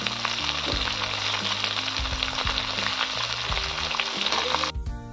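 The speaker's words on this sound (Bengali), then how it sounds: "দিয়ে দিচ্ছি পেঁয়াজ, তারপরে টমেটো, তারপরে কাঁচা লঙ্কা," Onion, tomato and green chili frying in oil for a small crab curry with cabbage and spinach, a loud continuous sizzle with occasional stirring scrapes, close and without talk.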